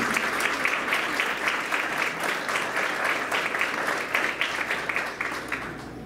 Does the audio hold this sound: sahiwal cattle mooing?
no